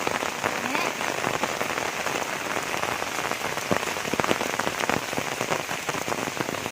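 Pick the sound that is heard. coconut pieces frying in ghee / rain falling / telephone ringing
rain falling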